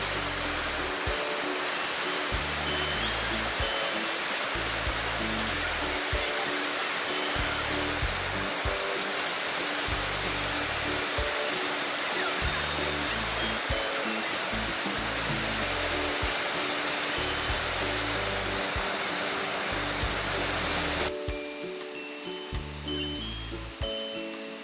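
A waterfall on Tai Yuen stream in Hong Kong's Tai Mo Shan mountains pours with a loud, constant, unbroken rush of water close by, with no voices.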